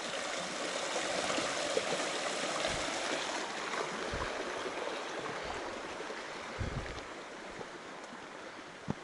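Water rushes steadily along the North Fork of West Tennessee Creek on the Colorado Trail, a constant soft broadband wash with a few low thumps, no talking.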